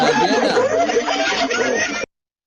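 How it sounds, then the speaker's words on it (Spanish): A hyena gives its laughing call, a rapid chattering series of giggling yelps, loud and close, lasting about two seconds before stopping abruptly. "El sonido de una hiena."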